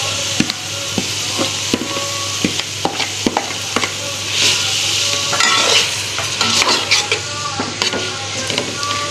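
Lightly browned onions being stirred into a bitter gourd daal in hot oil, a loud continuous sizzle punctuated by repeated sharp spoon taps and scrapes against the pot.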